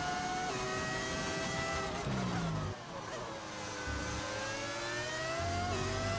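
A Formula 1 car with a V10 engine audio mod screams steadily at high revs in the F1 25 racing video game, its sharp whine rising and falling through gear changes without pause.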